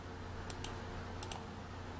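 A computer keyboard is typed on in short bursts, two pairs of crisp clicks, close and faint over a steady low electrical hum.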